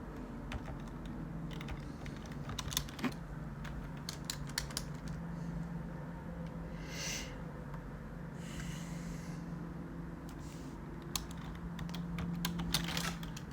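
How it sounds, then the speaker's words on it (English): Rapid, steady clicking of keys on a computer keyboard, close by, with a low background hum and no talking. "out here typing without looking"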